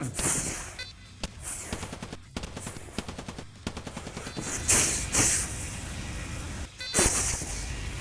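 Rapid turret gunfire in a VRChat game, bursts of machine-gun shots with sharp impacts and short pauses between volleys, loud and close, with faint voices underneath.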